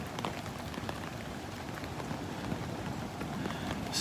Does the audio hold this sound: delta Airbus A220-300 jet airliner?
no